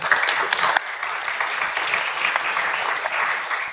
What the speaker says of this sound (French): Merci Cyril Lunon, on vous applaudit